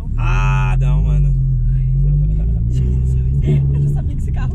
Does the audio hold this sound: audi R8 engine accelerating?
yes